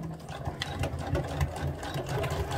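A sewing machine back stitches across fabric while a dress skirt and band are sewn, a close, steady mechanical hum with quick rhythmic needle clatter.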